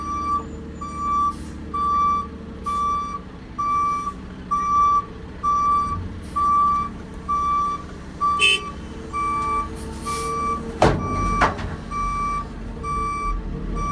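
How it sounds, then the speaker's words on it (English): A truck reverses at a swamp job site, its backup alarm beeping loud and steady in an even rhythm over engine rumble, with a sharp air-brake hiss near the end. "Please tell me you're gonna take it out of reverse."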